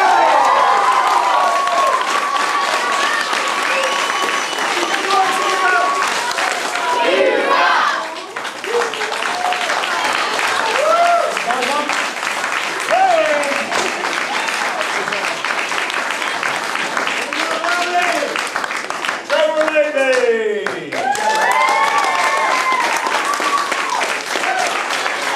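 Audience applause at a family martial arts center belt ceremony, sustained clapping from a crowd that runs throughout, with brief voices and a whistle-like cry breaking through near the middle and later.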